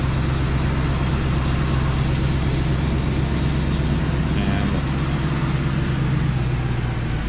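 A 2020 Ford F450 truck engine runs on CNG at a steady idle, close and loud, with a continuous low rumble and no clear talk over it.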